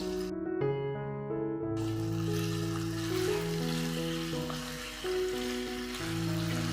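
Potatoes cooking in a pan with sugar and lemon, giving a steady, fairly soft sizzle and frying hiss that runs throughout beneath louder background music.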